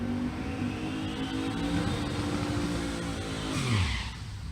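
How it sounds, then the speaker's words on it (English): A drag racing car in the right lane finishing its burnout at the strip, a steady loud engine roar with tire noise that rises near the end, then drops in pitch as the revs fall away. "Benny Geisbright finishes the burnout in the right lane"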